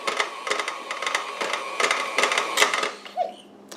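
Electric mixer churning thick sugar cookie dough, a close rattling whir with uneven pulsing beats that cuts off near the end, leaving a faint hum.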